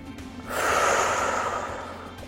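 A person takes a deep breath during an upper-body workout, a single audible inhale swelling up and slowly fading, close and alone.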